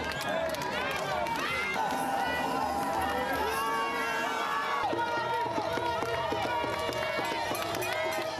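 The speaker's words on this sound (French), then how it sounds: "De l'entrée du stade jusqu'à la loge officielle, il a eu droit à un impressionnant bain de foule." Large jubilant crowd packing a stadium in Dimbokro, Côte d'Ivoire, to greet President Alassane Ouattara, a dense continuous roar of voices and movement with music-like tones running throughout.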